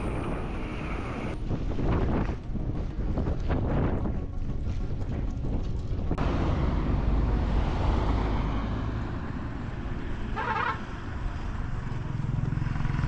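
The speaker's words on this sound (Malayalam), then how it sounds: "ഭയങ്കര കാറ്റാണ് ഒരു രക്ഷയില്ല നിൽക്കാൻ പറ്റാത്ത കാറ്റ് പേടിപ്പിക്കുന്ന കാറ്റാണ്" Loud, constant mountain wind buffeting and roaring across the microphone on the road between Leh and Kargil in Ladakh, gusting in broad rumbling waves with no voices.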